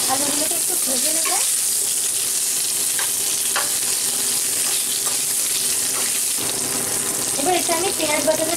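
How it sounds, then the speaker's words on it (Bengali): Potatoes frying in a pan for a Bengali egg curry, a continuous sizzle with bursts of stirring and scraping near the start and end and brief clinks in between, no talking. "এবার আমি এর মধ্যে আলুগুলোকে দিয়ে দিচ্ছি। আলুগুলোকে একটু ভেজে নেব।"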